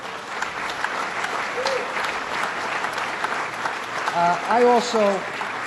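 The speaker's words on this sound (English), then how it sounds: "I think he deserves a tremendous round of applause." Steady applause from an audience at an outdoor awards event, a continuous wash of clapping that fills the whole stretch, with a voice speaking over it near the end.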